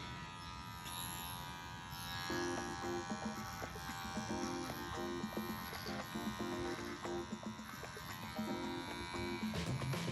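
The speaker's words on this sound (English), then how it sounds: "I'm going to use my trimmers." Electric hair trimmers buzz steadily while cutting kinky hair for a fade, a close, continuous hum with slight changes in pitch and pressure as the blades move through the hair.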